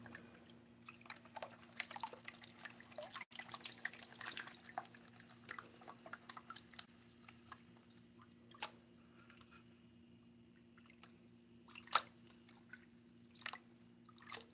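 Water and paydirt swirl in a gold pan, a soft, close sloshing and trickling that rises and falls with the rocking motion, with a few faint drips and gritty scrapes, quiet and steady.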